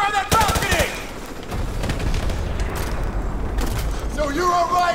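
Gunfire in Call of Duty 4: Modern Warfare Remastered, rapid rattling shots and rumbling bursts running steadily beneath loud shouted voices in a firefight.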